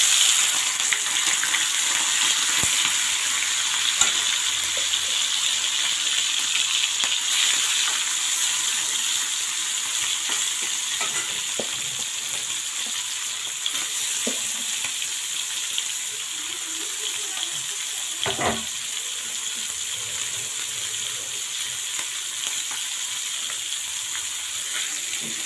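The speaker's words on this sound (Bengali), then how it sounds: "এই তো মরলা মাছগুলো আমি এখন ভেজে নিব।" Morala fish rubbed with salt and turmeric fry in hot oil, giving a constant loud sizzling hiss for the whole stretch, with scattered faint pops and clinks and no talking.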